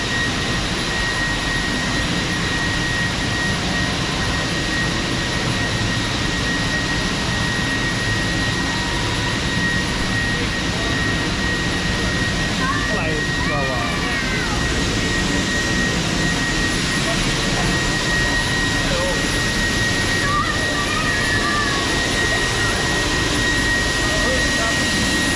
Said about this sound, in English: It's an APU.